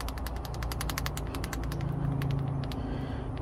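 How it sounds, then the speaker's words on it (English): A worn front lower ball joint on a 1999–2015 Chevy Tahoe being moved, giving a steady rattling, clicking creak with repeated sharp ticks throughout, close and fairly loud with no talking. "Now this is what your ball joint definitely ain't supposed to be doing."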